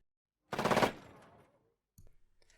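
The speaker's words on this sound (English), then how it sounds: "The light tickling of gunshots shook the air." A rapid burst of gunfire crackles loudly, then fades; a few quieter shots follow a moment later.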